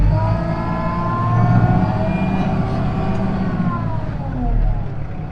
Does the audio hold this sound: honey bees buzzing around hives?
no